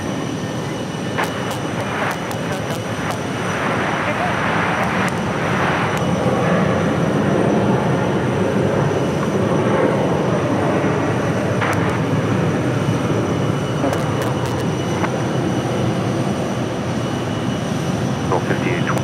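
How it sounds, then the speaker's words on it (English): An American Airlines Airbus A321 at Phoenix Sky Harbor roars steadily for the whole stretch, a broad rumbling wash that swells slightly toward the middle. Faint voices can be heard in the background. "Airbus A321."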